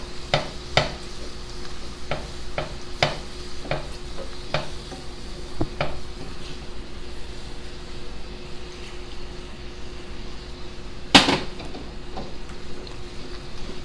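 Mushrooms with Dijon mustard and thyme stirred in a pan for steak Diane, a low steady sizzle with a run of quick utensil clicks early on, then one louder scrape later.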